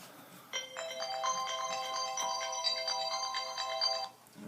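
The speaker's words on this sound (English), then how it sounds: "Phone going off." A phone's electronic ringtone goes off, a bright repeating melodic chime sounding for about three and a half seconds at moderate loudness before cutting off, with no talking over it.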